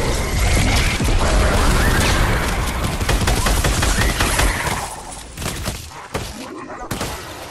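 Rapid gunfire in a video game, a dense, loud fusillade of overlapping shots that keeps going for several seconds, then thins into sparser cracks and thumps near the end, with no voices.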